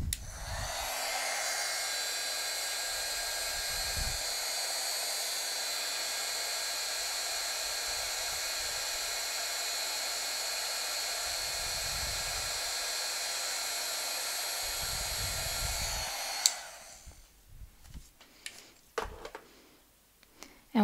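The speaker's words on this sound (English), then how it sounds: "I use a heat gun to melt the embossing powder" A heat gun runs with a loud, steady blowing whir for about sixteen seconds while it melts embossing powder on chipboard, then cuts off and leaves only a few light clicks and taps.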